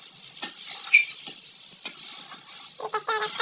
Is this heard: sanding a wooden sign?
no